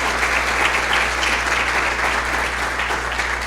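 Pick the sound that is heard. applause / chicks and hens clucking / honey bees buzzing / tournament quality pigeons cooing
applause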